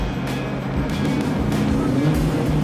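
A deep 1970 Chevrolet Chevelle muscle car engine rumbles steadily at close range, with rising revs near the end and faint voices underneath.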